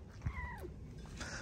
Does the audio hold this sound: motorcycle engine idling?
no